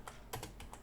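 Several quick keystrokes typing a Linux command on a computer keyboard, close and soft, in an uneven burst of about five clicks.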